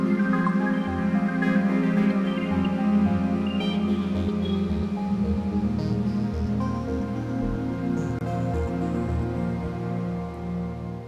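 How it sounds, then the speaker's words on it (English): Ambient arpeggio pad layers from the Parawave Rapid synth, panned wide, sustain in a soft, evolving wash with gently shifting tones, steady and moderately quiet, with no voices. "You can also pan them out. So panning out these ARP layers can actually be kind of cool,"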